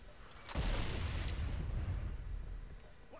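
A plasma grenade in Halo goes off as a single close, deep boom that rolls into a rumbling tail and fades over a few seconds.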